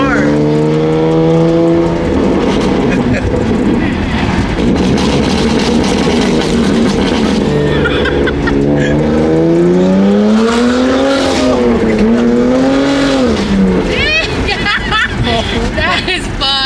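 A BMW M3 drifting, its engine revving hard and rising in pitch through the slide, with tire squeal breaking through near the end; excited talk and exclamations from people inside the car run over it throughout.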